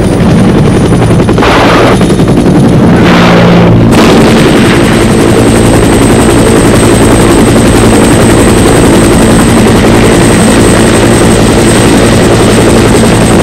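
Military helicopters armed with 70 mm rockets roar continuously and loudly with steady rotor and engine noise, with a few bursts of firing in the first four seconds before the constant drone carries on.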